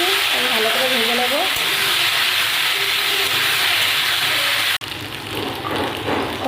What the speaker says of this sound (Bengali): এবার আলু আর কলাটা আমি ভেজে নেব।